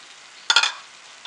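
Minced mutton kheema frying in a pan gives a brief burst of sizzling and scraping, two or three quick stirring strokes close by, then a faint steady hiss.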